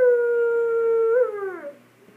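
A single long, smooth howl from a human voice imitating a wolf, holding steady and then sliding downward before trailing off.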